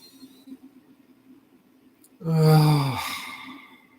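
A single deep breath taken slowly and close, a soft drawn inhale swelling into a long airy sigh-like exhale after a quiet lead-in.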